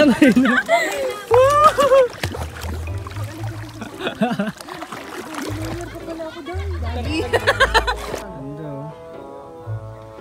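A person swims in outdoor water in rural Pangasinan, making irregular splashes and sloshes while several voices talk and call out over them.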